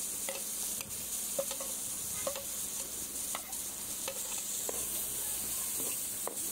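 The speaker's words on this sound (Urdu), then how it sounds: "آپ کا جو آئل بچ گیا تھا اس میں آپ نے پیاز اور لہسن کا پیسٹ ایڈ کر لینا ہے" Onion and garlic paste sizzles in leftover frying oil for a tadka for aloo arvi masala, a steady close hiss broken by repeated clicks of stirring against the pan.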